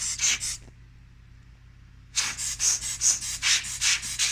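Short bursts of air from a blower clean dust off an LG Wi-Fi module and its pins, loud hissing pulses, a few at first, then a steady run of repeated blasts after a pause.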